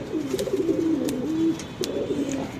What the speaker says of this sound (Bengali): এটা ফয়সাল ভাইয়ের ওয়ারির গোল্ডেন কবুতর বলে